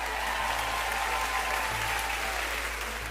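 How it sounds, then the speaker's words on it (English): An audience at a talk with Hollywood life coach Tim Storey claps steadily for about three seconds, a continuous wash of many hands with no break. "Somebody clap if you believe that."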